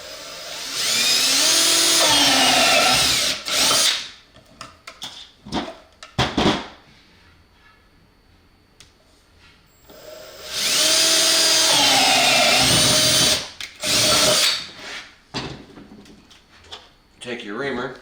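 A power drill with a unibit step drill bit bores a hole while assembling an explosion-proof drop light, two loud whining bursts of a few seconds each separated by quieter clicks and handling noises.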